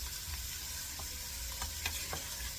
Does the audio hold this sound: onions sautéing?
yes